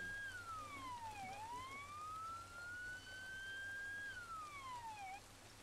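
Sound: police sirens from the video game Arma 3

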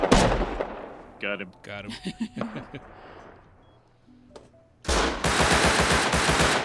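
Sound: gunfire from primitive weapons in the video game Rust

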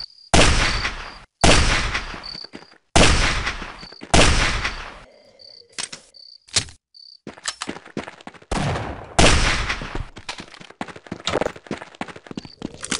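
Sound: gunfire in the video game They Hunger

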